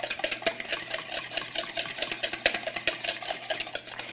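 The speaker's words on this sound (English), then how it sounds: "all we have to do here is whisk it up in this bowl." Rapid, steady clicking and tapping of a whisk against a bowl while mixing a satay marinade, a light rhythmic clatter continuing throughout.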